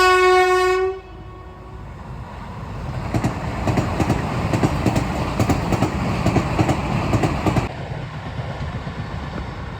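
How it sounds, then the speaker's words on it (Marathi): A passenger train arrives, its horn blaring loudly for about a second at the start before giving way to rumbling wheels and rhythmic clattering over rail joints as carriages roll past nearby. "हे ट्रेन पण 500 आली साधा"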